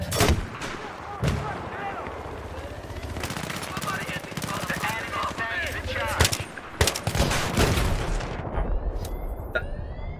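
Battlefield 3 on PS3: rapid bursts of gunfire and heavy booms crack repeatedly amid a constant battlefield din, with a player's voice talking over the fighting.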